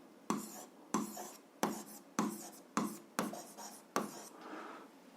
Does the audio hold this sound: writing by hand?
yes